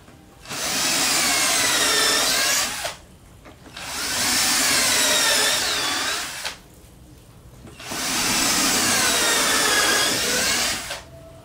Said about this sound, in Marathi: ड्रिल मशीनने याला होल मारतो.